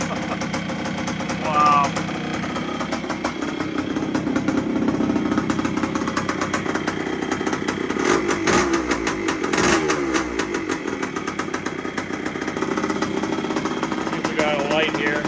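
A rebuilt 1973 Yamaha CT3 motorcycle engine idles steadily and close by after its first start, a continuous rumble throughout, with a person speaking briefly over it.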